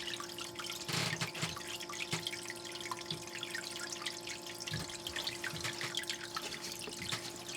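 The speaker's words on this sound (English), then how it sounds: "Let's throw some water in it" Water splashes and trickles over gold sluice concentrates, with steady wet dripping and pouring close by throughout.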